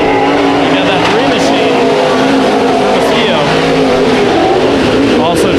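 Modified race cars roar around Ocean Speedway during a heat race, engines loud and continuous with pack noise and faint tire squeal, while an announcer talks over them.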